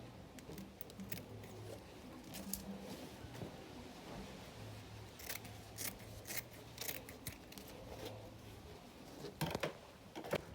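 Scissors snip through fabric being cut for a gele fan headgear, a run of soft crisp cuts close by with quiet handling noise between them.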